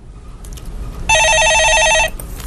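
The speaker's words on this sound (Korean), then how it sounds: "예, 전화 받아보겠습니다." A telephone rings once, close and loud: a bright, rapidly trilling electronic burst lasting about a second over a quiet room background.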